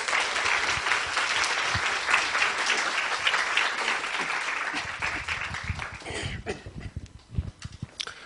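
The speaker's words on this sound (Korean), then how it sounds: "강대공 목사님 나오실 때 박수로 맞아주시기 바랍니다." An audience at a church group lecture bursts into loud sustained applause as the pastor comes out, the clapping thinning into scattered, sparser claps near the end.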